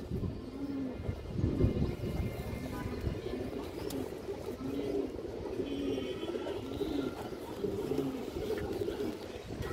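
Pigeons, including a black-colored loft-flown bird, coo in a steady repeating low rhythm at close range, with faint background noise throughout.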